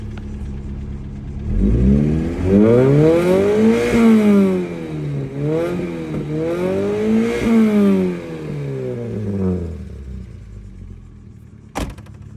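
A 1986 Mazda 323 engine, original, revs up and down several times, rising and falling in pitch with a rough, clattery idle between, close by, ending with a click.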